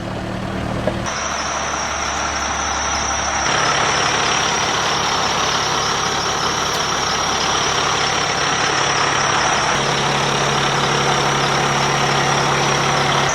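A bucket truck's engine idles steadily and loudly from start to finish, with a low, even rumble and a constant whine above it, and its pitch and level shift slightly a couple of times.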